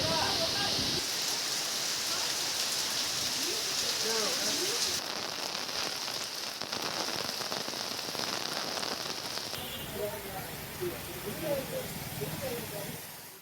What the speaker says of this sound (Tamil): சூறைக்காற்றுடன் கூடிய கனமழை கொட்டி தீர்த்தது